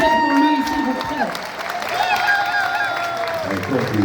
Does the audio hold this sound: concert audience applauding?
yes